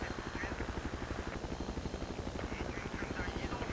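A video game aircraft, helicopter-like, flies overhead with a steady, loud rotor chop and engine roar that carries throughout, while a voice talks over it.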